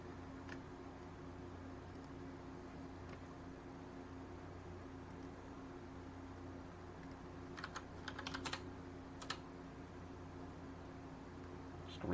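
Computer keyboard typing runs steadily and softly over a constant fan-like hum, with a short cluster of louder, quicker keystrokes near the end.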